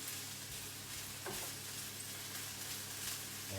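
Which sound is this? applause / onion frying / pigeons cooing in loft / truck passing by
onion frying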